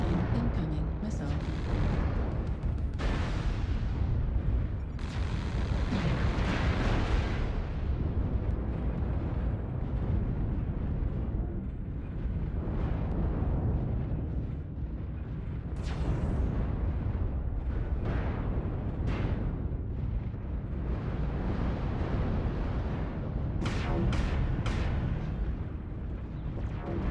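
Missile explosions in the MechWarrior Online video game, heavy rumbling blasts and booms piling up almost continuously, loud and close, with a synthetic voice giving warnings over them.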